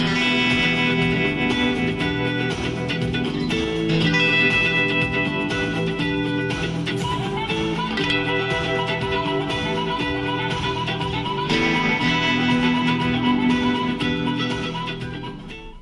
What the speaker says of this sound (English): I've hooked up my Dan Electro Filthy Rich tremolo pedal, and we've got the speed set at 3 o'clock